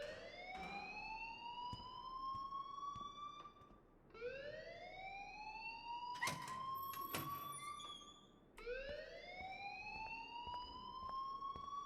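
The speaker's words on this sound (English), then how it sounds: "please turn off that alarm" A rising-and-falling electronic alarm wails loud and alone in Life is Strange, sweeping upward in repeated cycles about every four seconds, with a few sharp clicks and tones layered over it.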